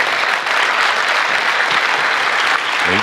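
Audience at a summit gives loud, continuous applause at the end of a talk, dense clapping filling the room with a brief voice near the end.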